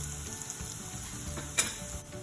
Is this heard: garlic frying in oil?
yes